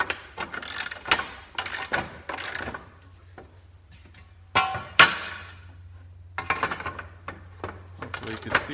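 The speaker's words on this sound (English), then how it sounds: "I'll put a ratchet over here," A ratchet clicks in short bursts while working on 1968 El Camino SS 396 rear control arm bushings, crisp close metallic ratcheting separated by pauses, over a low steady hum.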